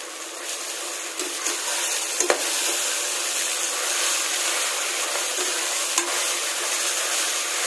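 Vegetable rice with mint and coriander being stirred in a pressure cooker: a continuous hissing sizzle with occasional soft scrapes and taps of the spoon, close and steady.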